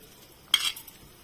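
Shredded cabbage, coriander and salt being mixed in a bowl for kobi muthiya, one brief close scraping stir of a spoon against the bowl in an otherwise quiet kitchen.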